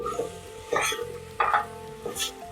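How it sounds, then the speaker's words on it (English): Tomatoes sautéing in a pan for a Parsi mutton dhansak, with a soft sizzle under a few short bursts of stirring and scraping against the pan. "Now continue sauteing this until the tomatoes turn mushy."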